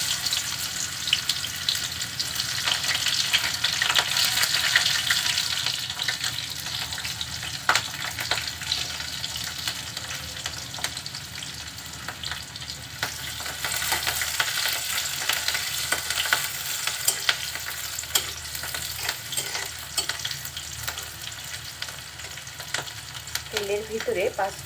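Chopped garlic, onion and green chili frying in oil with panch phoron, a dense continuous sizzle and crackle with occasional stirring clicks, close and steady for the whole stretch.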